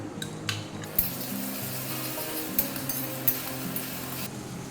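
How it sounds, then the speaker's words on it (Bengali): Onions fry in a pan as ginger, garlic and green chili paste is stirred in, with a steady low sizzle, a few sharp clinks of a spoon against the pot, and faint tonal music underneath. "পেঁয়াজটা ভাজা হয়ে গেছে এবারে দিয়ে দেবো আদা রসুন আর কাঁচা লঙ্কা বাটা"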